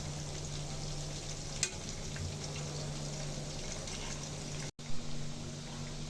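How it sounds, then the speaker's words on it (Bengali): Coated chicken pieces for chilli chicken fry in oil with a constant close sizzle and crackle, broken briefly by a quick clink and a short gap. "এক পাশ ভালো করে ভাজা হয়ে গেছে, এখন উল্টে দিব।"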